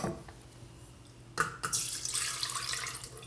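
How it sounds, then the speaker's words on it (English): Herbal infusion strained into a double boiler, first a quiet trickle, then a louder, steady splashing pour of liquid that continues to the end. "Once the infusion is ready, you'll want to strain it into a double boiler."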